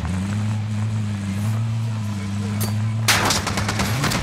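Shotgun fire in a video game, a quick burst of loud sharp shots arriving late over a constant low engine-like hum.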